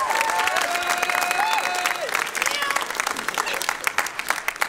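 At a school spring choir concert, an audience claps for the choral director in a moderate, somewhat sparse round of applause, with some voices and tonal sounds mixed in, tapering off toward the end.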